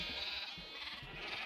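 Sheep in a block-building video game bleat in a string of quick, repeated cries over steady game background noise, moderately loud and with no talking.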